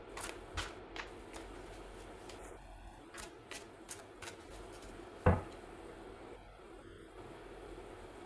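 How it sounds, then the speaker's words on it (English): Tarot cards being shuffled by hand in a quiet room, giving soft intermittent riffles and taps with one sharper knock partway through, faint and close with no talking. "Shuffling."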